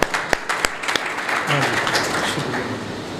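Audience applause at a Muslim–Christian public debate opens with a few sharp, close claps, then settles into a dense, even patter of crowd clapping and murmuring noise.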